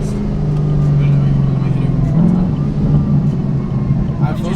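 A loud supercharged Procharger car accelerates hard during a ride-along, its deep engine drone rising and holding strong with a shifting tone, heard from inside the car under excited voices.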